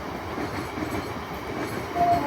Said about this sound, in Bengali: আবার ট্রেন যাচ্ছে।